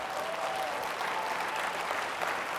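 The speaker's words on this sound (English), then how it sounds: "huge round of applause" An audience at an HR Tech conference gives a round of applause, with steady clapping filling the whole stretch and a faint murmur of the crowd beneath it.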